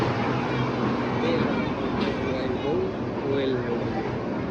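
A steady, loud rumble and roar of a freight train with petrol tankers rolling past at close range, continuous throughout with faint metallic squeals on top.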